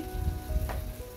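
Ginger garlic paste sizzles in a pan with chicken masala, a short, soft, steady frying hiss with faint crackles throughout.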